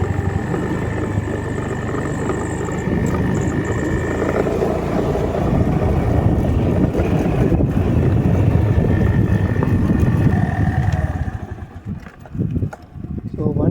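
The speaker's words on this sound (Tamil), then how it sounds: "இப்போ வண்டி ஸ்டார்ட் பண்ணி கீழே இறங்கிடலாம்." A scooter engine runs steadily with a loud droning rumble for most of the clip, then drops away into rustling near the end as people talk over it.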